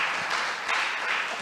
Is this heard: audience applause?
yes